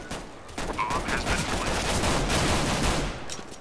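Pistol gunfire during a pistol round of Counter-Strike, a burst of dense game shots and clatter filling a few seconds with steady loud energy, faint speech underneath.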